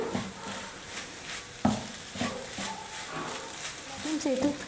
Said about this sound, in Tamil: தேங்காவை சேர்த்துட்டு ஸ்டவ்வை ஃபுல்லாக வச்சுட்டு ஒரு 2 நிமிஷம் நான் குக் பண்ணிக்க போகிறேன்